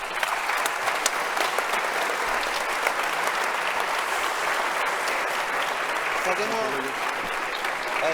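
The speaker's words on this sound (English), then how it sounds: "A big applause for them." An audience applauds the speakers after a panel on building a green hydrogen hub, steady, full clapping that lasts throughout, with voices briefly audible beneath it near the end.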